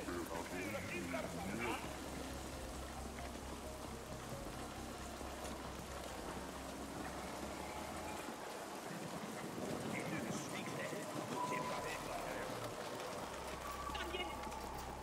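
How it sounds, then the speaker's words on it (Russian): Steady rain patters on surfaces throughout in the video game The Ascent, a constant hiss of drops with a low rumble underneath. "Дождь пошел."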